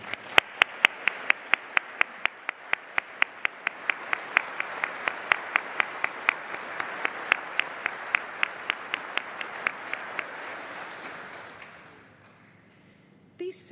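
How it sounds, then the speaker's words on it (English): A graduation ceremony audience applauds in a hall. A few sharp, evenly spaced claps stand out over a broad wash of clapping that gradually thins and fades to near silence. "Please join me in thanking them with a well-deserved round of applause."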